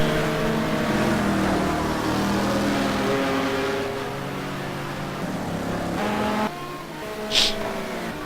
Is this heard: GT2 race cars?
yes